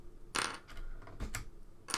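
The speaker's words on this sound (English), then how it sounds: "take all the keys off. I think they just pull off." Plastic keycaps being pulled off a Saga 1 Emperor keyboard, giving a few sharp clicky snaps spaced across a couple of seconds, close and fairly quiet.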